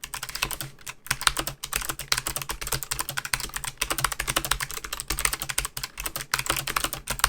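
Rapid, crisp clicky keystrokes rattle out in quick bursts with short pauses, close and distinct, from a Logitech G815 low-profile mechanical keyboard with clicky switches.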